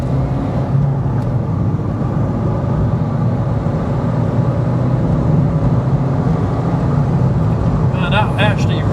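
A Ford Fiesta mk6 Zetec S TDCi diesel with the EGR blanked, a steady loud engine drone heard from inside as it pulls hard, with a voice speaking over it.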